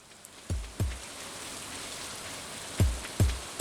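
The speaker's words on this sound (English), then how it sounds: "Alright, now it's raining." Steady soft rain in the farming game Stardew Valley, a faint even hiss running throughout, with a few soft low thumps breaking through at intervals.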